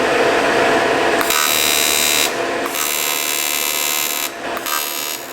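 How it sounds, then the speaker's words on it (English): Welding aluminium floor panels for an LS3-swapped Land Rover Defender produces two long bursts of harsh, loud buzzing crackle separated by short pauses. The sound is close and runs without any talk. "so we're just gonna run a couple tacks"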